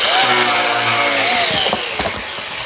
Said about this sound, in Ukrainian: ми весь скотч ріжемо болгаркою